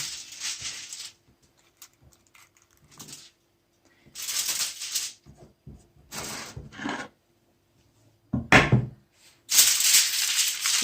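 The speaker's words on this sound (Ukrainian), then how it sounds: "Ложимо в фольгу і замотуємо отак от у фольгу." Mackerel being wrapped in aluminium foil, with several bursts of loud crinkling and rustling separated by quiet gaps, close up and without talk.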